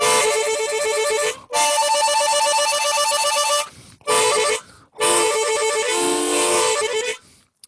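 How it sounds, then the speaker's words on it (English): Tongue trill on a chromatic harmonica, played as bright, rapidly warbling chords in four bursts of about one to two seconds each, separated by short breaths, with no voice. "So the last trick is to do the tongue trill,"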